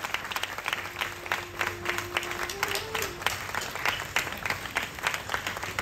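Audience at an International Youth Day event claps steadily to welcome a guest, sustained applause of many hands at moderate distance, fairly quiet overall, with a faint steady tone in the background.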